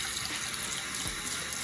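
Tap water runs steadily into a 3D printed shaving bowl for soaking a brush, a continuous close hiss with faint trickling and no talk.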